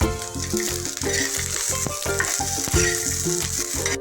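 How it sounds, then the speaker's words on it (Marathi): Garlic and ginger roasting in a pan with grated coconut give a steady, loud frying crackle throughout, with faint rhythmic tapping of the stirring spoon underneath. "हे लसूण अद्रक मी ह्याच्यातच टाकणार आहे. हे पण थोडं भाजून घेऊया."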